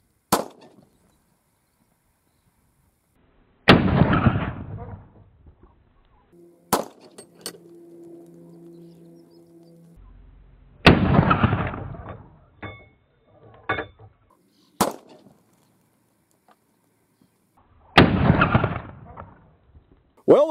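Three loud, sharp gunshots from a .45 Auto pistol with an experimental aluminum barrel firing cast lead bullets, spaced several seconds apart outdoors, each with a short echoing decay and quiet handling noises between.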